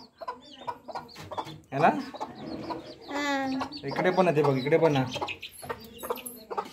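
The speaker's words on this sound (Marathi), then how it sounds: "इकडे इकडे कोंबडा आहे आणि इकडे कोंबडी आहे" A rooster and hens cluck close by on a Konkan farmyard, with several short clucks and a longer call, while someone talks over them.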